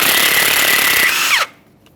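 An impact wrench loosens a 15mm mounting nut on a Ford F-150 4WD locking hub, a loud, steady, close-up buzzing burst about a second and a half long that winds down abruptly into quiet.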